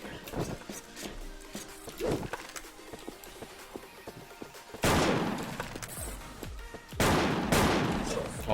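Gunfire in the online shooter Wolfteam, with an M-500 Pro weapon in use: loud bursts of rapid shots in two heavy volleys after scattered earlier shots, with game effects throughout and no talk.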